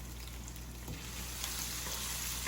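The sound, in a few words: sauteing and stirring in pan until brown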